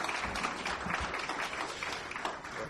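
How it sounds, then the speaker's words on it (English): Sustained audience applause at an anniversary tribute for Newsday's The Point, a dense, steady wash of many hands clapping throughout with no voices over it. "let's give Newsday a round of applause for The Point on their 4th anniversary"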